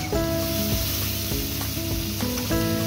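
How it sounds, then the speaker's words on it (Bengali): Carrot and mixed vegetables fry together in butter with a little white oil for fried rice, giving a loud, steady close sizzle with occasional stirring bumps over faint background music. "আমি একসাথেই সব ভেজে নেব।"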